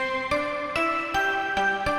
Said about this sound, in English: It's a little bit more of a metallic type sound